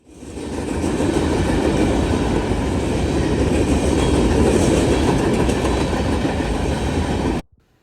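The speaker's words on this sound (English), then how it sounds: "NS had purchased about 36 CEFX AC 4400 CWs recently." A Norfolk Southern freight train hauled by AC4400CW locomotives passes at Marion, Ohio. Its loud, continuous rumble and rolling clatter hold steady, then cut off abruptly, with no talk.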